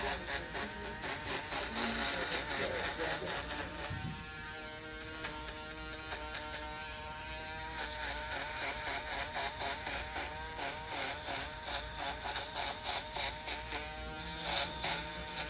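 An electric foil shaver buzzes steadily with a harmonic whine during a skin fade haircut, its pitch shifting slightly as it moves against the head, close and fairly quiet throughout.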